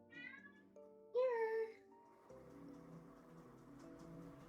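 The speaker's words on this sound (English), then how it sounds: "I'm not sure if you can hear him, but he is meowing." A cat meows twice nearby, a short call then a louder drawn-out one, followed by quiet background noise and faint distant voices.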